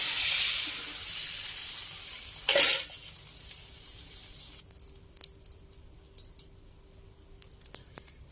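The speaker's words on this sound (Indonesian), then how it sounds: "Lalu nyalakan kompor. Lalu kita dadar telurnya." Eggs being fried in a little cooking oil in a wok, a hissing sizzle at first, then a sharp burst, then quieter crackling with scattered pops and stirring scrapes. No one talks.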